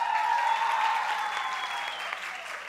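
Public-hearing audience applauding as a student is invited on stage, a steady wash of clapping from the room at moderate level, fading slightly toward the end.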